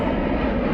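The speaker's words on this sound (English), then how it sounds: "why is there an airplane flying so close" Airplane flying low overhead near Reno-Tahoe International Airport, a brief, steady, loud engine roar heard up close with no talk.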